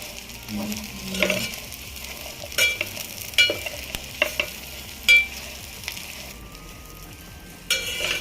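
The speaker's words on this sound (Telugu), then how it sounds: "ఉల్లిగడ్డలు వేసి బాగా కలుపుకోవాలి" Onions and green chilies for a gongura fish curry are stirred in a pan, with a low background sizzle and a series of distinct spatula scrapes and knocks at irregular intervals, close by.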